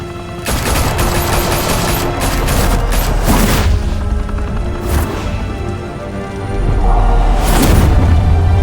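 Gunfire erupts in the Batman Telltale Series game, loud sustained volleys of shots and bursts mixed with booming impacts, rising and falling in intensity over several seconds.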